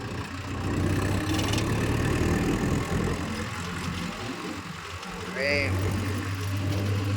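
Mahindra Yuvo Tech+ 585 DI tractor engine running steadily on a road, a continuous low droning hum close by with a brief rise midway, with someone talking over it.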